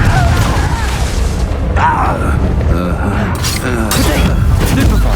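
Confringo fire spell blasts in the video game Hogwarts Legacy, booming and shattering amid a loud continuous clash of battle effects, with a voice talking over it.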